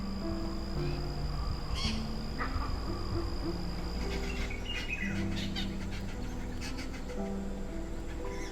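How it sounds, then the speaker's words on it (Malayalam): A flock of parrots calls in the forest of Parambikulam Tiger Reserve, with repeated sharp squawks and chatter at moderate distance over a steady background hum. "കാട്ടിൽ കയറിയാൽ എപ്പോഴും തത്തകളുടെ സൗണ്ട് ഇങ്ങനെ മുഴങ്ങുന്ന കേൾക്കാം"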